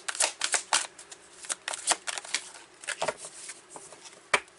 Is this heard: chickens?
no